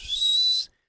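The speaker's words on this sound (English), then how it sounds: "sounds like turbo noises or something" A Scania fire truck's turbo lets out one short, high, clear whistle, steady for about half a second before cutting off abruptly.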